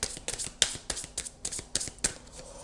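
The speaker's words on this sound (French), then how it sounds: "je vais tirer une dernière carte" Tarot cards are handled and shuffled from a deck, giving a close series of quick, crisp riffles and flicks in an uneven rhythm, with no voices.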